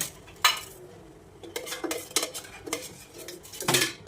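A metal pan set down on a gas stove while preparing bottle-gourd halwa, with sharp clanks and scraping knocks of cookware at close range, spaced irregularly, ending in a final clatter.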